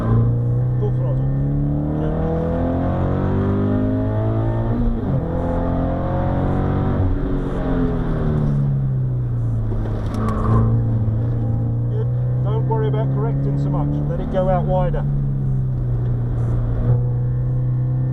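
A sprint car on the Barkston Heath circuit accelerates hard at full throttle, its loud, close engine drone climbing and dropping in pitch through the gear changes.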